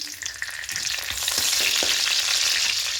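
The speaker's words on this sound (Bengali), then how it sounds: "এটা হালকা একটু ভেজে নেব আর একটা তেজপাতাকে ছিঁড়ে দিয়ে দেবো।" Whole spices (cinnamon, cardamom, cloves, cumin) and a torn bay leaf fry in hot oil, giving a steady close crackling sizzle that swells slightly toward the end.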